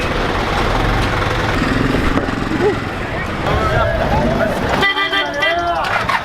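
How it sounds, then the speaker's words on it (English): Traffic on a busy, chaotic street, with loud car horns tooting repeatedly over engine rumble and a general din of vehicles and people close by. "People talking, car horns, everything going off, everything moving constantly, all the time, everywhere."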